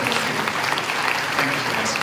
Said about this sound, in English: definitely another round of applause